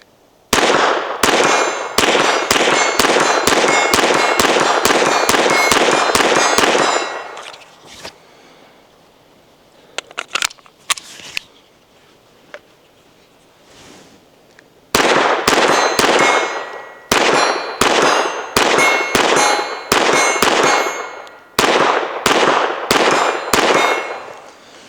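A .22LR pistol firing at steel targets, with long quick strings of sharp shots and ringing metallic clangs, a quieter pause with a few scattered clicks in the middle, then further rapid bursts.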